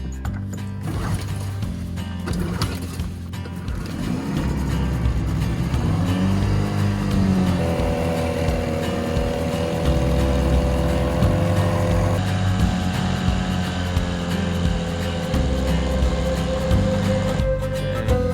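A faulty dinghy outboard motor drones steadily and loudly, its pitch shifting now and then as it revs up and settles, with no talking.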